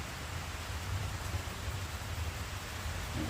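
Rain falls outside on a roof as a soft, steady hiss with a low rumble, continuous and fairly faint, during cleaning work on a 1968 Datsun 1000 barn find.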